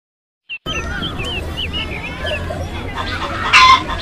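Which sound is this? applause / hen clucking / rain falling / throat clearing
hen clucking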